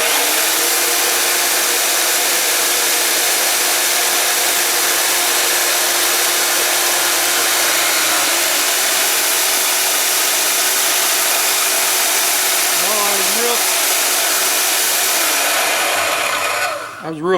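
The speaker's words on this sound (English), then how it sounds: "we're going to cut this lip off the end" A steel shaft has the lip cut off its end. The cutting makes a loud, steady, close whine that holds for about sixteen seconds before cutting out abruptly.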